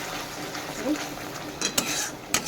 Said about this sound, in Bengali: হলুদ দিলাম স্বাদ মতো আমি মশলাটাকে আবার কষাবো